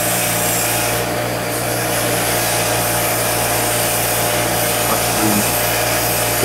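A power-driven wire wheel grinds steadily against a diecast James Bond DB5 model car, stripping thick paint in one continuous, close, loud abrasive whir.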